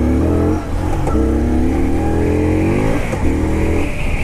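A 2018 Indian Scout Bobber motorcycle accelerating hard on the throttle, its loud, close engine note climbing steadily with rising harmonics and a brief dip as it shifts gear before pulling again.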